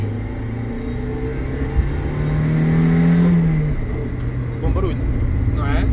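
Mazda MX-5 NA with a 1600 four-cylinder engine revving, a steady engine drone that rises in pitch and then eases off, with people talking over it from inside the car.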